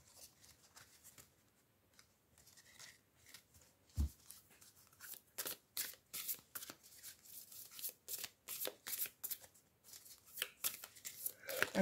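Tarot cards being drawn and handled during a cartomancy reading, with a run of crisp, close shuffling snaps and slides that grow busier and more rhythmic toward the end, preceded by quieter rustling and a single sharp tap.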